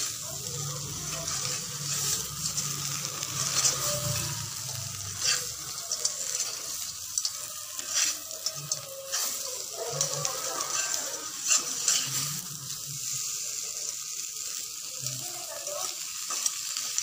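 Country crab (field crab) frying and being stirred in a masala, a steady close sizzle with scraping stir strokes throughout, no talking.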